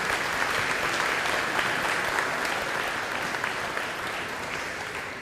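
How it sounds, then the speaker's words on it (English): Dense, steady applause fills a banquet hall as the crowd at Warren Central's 2018 athletic banquet claps for its players, loud and sustained throughout before easing slightly at the end. "give our players a hand, round of applause for what they're doing"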